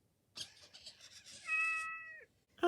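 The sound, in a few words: Metacat 2.0 robotic pet cat meowing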